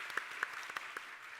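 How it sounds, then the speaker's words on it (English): Brief, light audience applause at a conference panel discussion on Asia-Pacific's path to net-zero, a few scattered claps heard faintly and at a distance, fading out quickly. "Round of applause if you wish."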